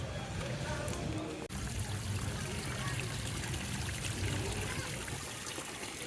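Water trickling and streaming steadily into a large man-made lake in Uganda, a continuous soft outdoor wash with a faint background voice.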